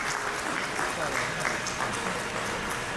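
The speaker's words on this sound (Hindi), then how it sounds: "जोरदार तालियां।" An audience at a World Photography Day event claps in a steady, moderately loud burst lasting a few seconds, with individual claps blending into a continuous patter.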